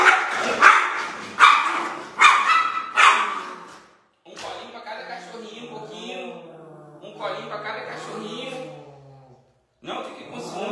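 Two small dogs bark in sharp close bursts during the first few seconds, followed by someone speaking softly and affectionately to them, with a short late yip.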